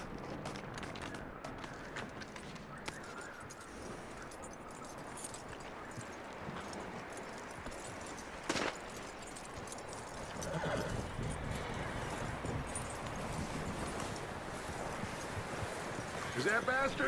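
A horse in the Red Dead Redemption 2 video game clops along with steady hoofbeats and lets out whinnies, while people talk over the sound.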